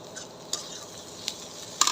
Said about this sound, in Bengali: এই তো আমার পেঁয়াজটা বাদামি কালার হয়ে গেছে